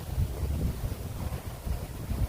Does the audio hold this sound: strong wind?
yes